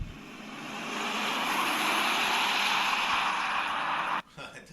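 A Tesla P3D electric car accelerates hard, giving a loud, steady rushing roar of wind and road noise heard from inside that builds and holds for several seconds, then drops off abruptly near the end.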